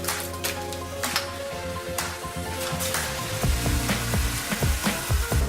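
Baby broccoli bubbling and hissing in liquid nitrogen, a steady, close, rushing fizz with faint crackles that thickens toward the end, with no voices.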